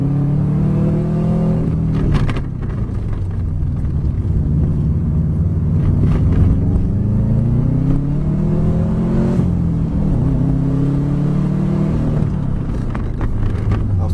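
A Subaru Impreza WRX rally car of about 270 hp drives with its engine loud and close, the revs rising and falling steadily throughout as it brakes and pulls away again, with no voices over it.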